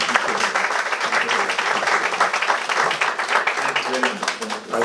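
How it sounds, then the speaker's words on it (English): Audience applause at a panel discussion on the Grenadian Revolution, steady clapping throughout with voices and murmur mixed in underneath. "So let's hear another round of applause."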